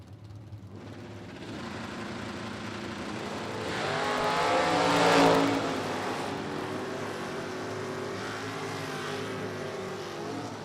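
A factory stock Ford Mustang and a COPO Camaro roar down a drag strip, engines building to a loud peak as they pass and then fading to a steady distant drone.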